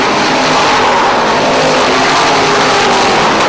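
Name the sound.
race cars racing on oval track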